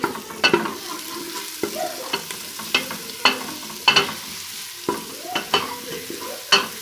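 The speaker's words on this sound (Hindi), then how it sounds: "ये मैंने इसके अंदर डाल दिया है। ये जो थोड़ा और रह गया ऐसे भी मैं डाल दूँ अच्छी तरीके से, और इसे अब हमने हिलाना है" Crushed spices are stirred in a pan for tarka moong dal, with a soft sizzle beneath. A spoon scrapes in repeated close strokes at a loose, uneven rhythm, and no one speaks.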